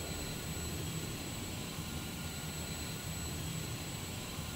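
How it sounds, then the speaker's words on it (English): Steady broadband jet engine roar in the Starfield space video game, a continuous even rumble with a faint high whine and no talking. "Oh, look at the jet engine too"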